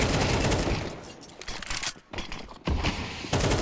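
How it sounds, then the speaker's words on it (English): AK rifle gunfire in a competitive Counter-Strike match: loud, rapid automatic bursts with a short pause mid-clip before firing resumes. "AK sprays a little bit wild, but the one back through the smoke is actually not enough to get them over"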